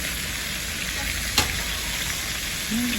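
Battered shrimp deep-frying in hot oil with garlic and pepper, a steady broadband sizzle and crackle throughout, with one brief sharp pop midway and no voices.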